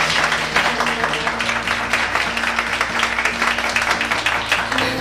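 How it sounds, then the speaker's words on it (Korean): An audience applauds a lecture panel at a future IT talk, a dense patter of clapping running steadily under a faint sustained musical tone. "패널 여러분께 진심으로 큰 박수 한번 부탁드리겠습니다"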